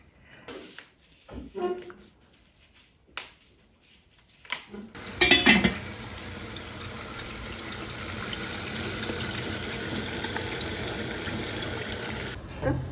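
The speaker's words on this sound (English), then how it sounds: "The water is boiling." A pot of water heats for cooking nettles. A few sharp clinks of cookware come first, then a steady, hissing bubbling roar continues for about seven seconds before cutting off.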